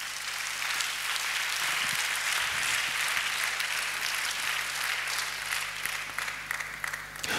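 Congregation in a church applauding continuously, a dense, steady clatter of many hands with no pauses, loud and sustained throughout.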